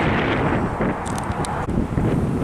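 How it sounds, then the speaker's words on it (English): Strong wind buffets the microphone atop a bluff overlook, a constant low rumbling roar with gusty fluctuations throughout. "it's super windy up here also"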